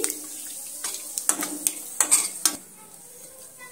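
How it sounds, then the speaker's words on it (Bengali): Raw cumin seeds fry in oil, stirred in a pan with a light sizzle underneath. A spoon scrapes and clinks in irregular knocks against the pan, then the stirring stops and only faint frying remains. "কাঁচা জিরেটা একটু নেড়ে চেড়ে ভেজে নিচ্ছি।"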